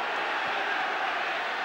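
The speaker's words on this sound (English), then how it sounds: "And the crowd certainly have a welcome from their slumbers in the second period" A football crowd at a Second Division match between Q.P.R. and Wrexham gives off a steady, dense roar, a broad wash of massed voices that holds even and loud throughout with no single voice standing out.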